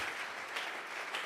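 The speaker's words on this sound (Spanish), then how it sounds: "Vamos a regalarle ofrenda de palmas al Dios de la gloria." A congregation claps together during a church vigil service, a dense, steady burst of many hands heard up close, with no speech over it.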